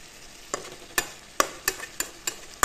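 Pieces of Assamese-style fish are turned one by one in a pan over low flame, making a run of about seven sharp scraping taps at an uneven pace over a faint, steady sizzle.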